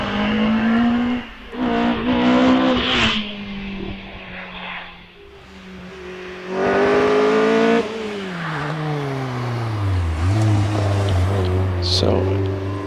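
Caterham 7 racing car on a hillclimb run at Prescott, engine note rising and falling through gear changes and revving hard near and loud, with a commentator talking over it throughout.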